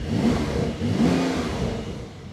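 A 2022 Porsche 911 Turbo S engine roars and revs up with a deep, throaty growl, loud and close, swelling twice before easing slightly.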